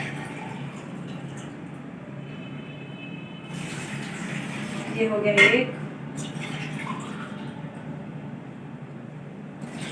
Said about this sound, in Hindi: ये वाले 2 गिलास भर के डालेंगे पानी के